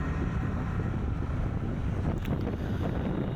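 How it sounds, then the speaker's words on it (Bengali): Strong wind buffeting an action camera's microphone outdoors, a loud continuous low roar with rough gusting flutter and no voices. "বাতাসের গতি অনেক"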